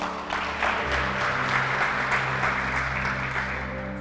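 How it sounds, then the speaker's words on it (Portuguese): Church congregation applauding at a Sunday sermon, a dense sustained wash of many hands clapping in a large room, steady and loud throughout, with a low sustained hum underneath. "Você pode dar um aplauso"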